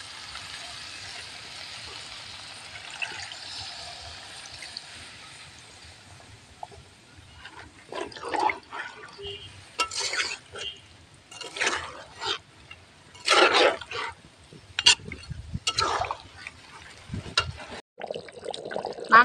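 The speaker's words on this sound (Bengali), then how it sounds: "চিকেন কষা হয়ে গেছে, এর মধ্যে পরিমাণ মতো জল দিব।" Water poured into a pan of chicken curry (kosha) cooking in a village kitchen, coming as several splashy bursts after a quiet stretch, near and moderately loud.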